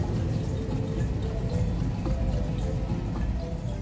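The roar of Iguazu Falls, a huge waterfall in Brazil: a dense, steady rushing wash of falling water that fills the whole stretch, loud and unbroken, with no voices.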